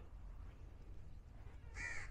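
A crow at the Khor Kalba Mangrove Centre in Sharjah lets out one short, harsh caw at the very end, rising above a quiet, steady low hum.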